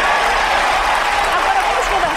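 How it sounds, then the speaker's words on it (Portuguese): Applause sound effect played in a television studio, a dense steady burst of crowd clapping, loud and close, with a voice speaking over it. "Aqueles aplausos bem efusivos mesmo"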